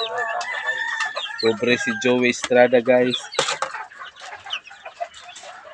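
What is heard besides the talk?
rooster crowing and clucking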